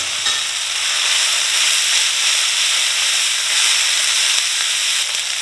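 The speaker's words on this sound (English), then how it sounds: "so I'm going to go ahead and add in our noodles." Noodles go into a hot stir-fry pan with browned vegetables, producing a loud, continuous sizzling hiss with faint crackles and steam, close up and unbroken by speech.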